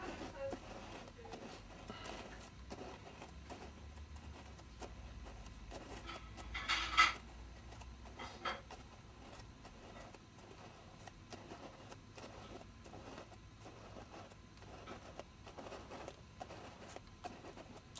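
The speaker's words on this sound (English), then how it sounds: "Hand cranked turntable." A hand-cranked turntable is turned at an outdoor 28th Foot military reenactment, giving a steady mechanical whirring and clicking amid a busy crowd, with one louder clunk partway through.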